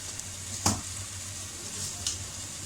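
Cumin seeds hit hot oil in a pan for the tempering of a fresh coconut chutney, giving a soft, steady sizzle with two brief sharp crackles, fairly quiet and close.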